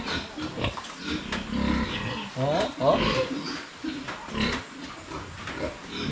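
A pregnant sow on a Philippine farm, close to giving birth, grunts and snorts in repeated short bursts close by, while people talk over and between the calls.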